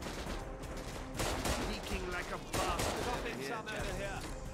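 Heavy enemy gunfire in Raid: World War 2, with sustained overlapping rifle and automatic bursts close by and loud throughout, broken by a few brief gaps.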